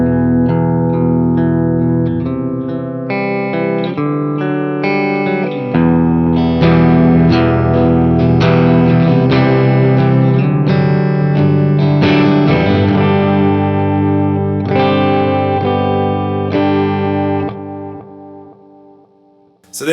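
An electric guitar played through a Will Sledge FX 7x70 analog delay pedal rings out in loud, sustained strummed and picked chords with a soft echo trailing underneath, continuing steadily for about twenty seconds before fading.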